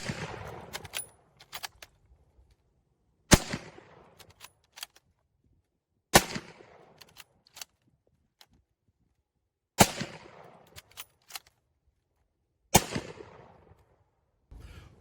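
A stripper-clip-loaded WW1 bolt-action rifle fires five loud single shots spaced about three seconds apart, each sharp crack followed by bolt-cycling clicks and clatter, with no talk.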